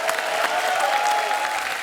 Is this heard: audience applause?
yes